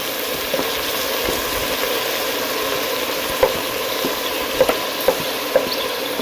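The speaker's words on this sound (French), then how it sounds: "Après les condiments, nous allons directement avec aux oignons." Green condiments and onions frying in a pot for roast pork, a steady close sizzle running throughout with a few soft clicks of stirring.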